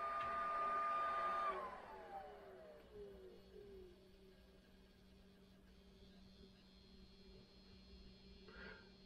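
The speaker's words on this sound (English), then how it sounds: "So that is the CPUfan, and it now has a PID control to maintain the temperature" Sovol SV08 3D printer with a software-controlled CPU fan: a faint fan whine that glides downward as the fan slows over a few seconds, then settles into a low, steady, quiet hum.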